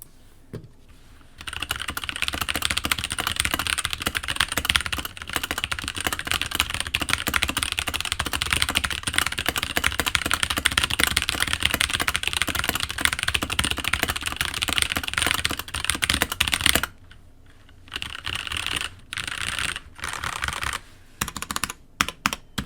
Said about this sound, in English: let's move on to the typing test.